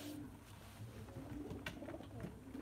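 Pigeons at an online pigeon auction coo softly in low, repeated rolling notes, quiet and fairly close, with no voices over them.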